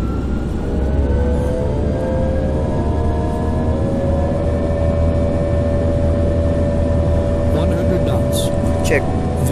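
Airliner engines roar steadily with a rising whine during the takeoff roll in Microsoft Flight Simulator X, a loud and constant drone.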